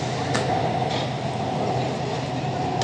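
A Kolkata metro train running in the tunnel beneath the Ganga between Sealdah and Howrah, a continuous loud rumbling roar inside the carriage with a few faint clicks and knocks over it.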